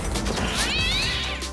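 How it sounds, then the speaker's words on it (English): A small cat's meow in a film scene, a single rising-and-falling cry over a loud, dense backdrop of other sound, with no speech. "a small cat suddenly jumped onto Jack"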